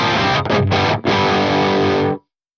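Distorted electric guitar through an AX8 Carolan Triptych amp model in modern mode at stock settings with a York Audio V30 cabinet impulse: loud saturated, compressed chords with two brief gaps, alone, ending in an abrupt cutoff.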